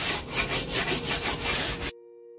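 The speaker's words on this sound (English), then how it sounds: "I'm going to just put a very light sand over." Light sanding over a lacquered wooden drone flute: about eight quick, even back-and-forth abrasive strokes, close and fairly loud, stopping abruptly and leaving near silence.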